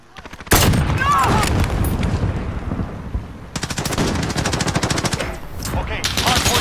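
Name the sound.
gunfire from Call of Duty Modern Warfare video game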